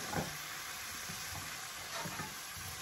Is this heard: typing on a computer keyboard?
no